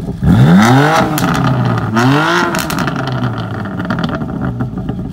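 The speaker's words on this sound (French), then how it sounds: "C'est exceptionnel le bruit du 6 cylindres." BMW M3 F80 Competition six-cylinder engine with exhaust valves open, revved twice in loud, close blips that rise sharply and fall back, then a rumbling idle with crackles.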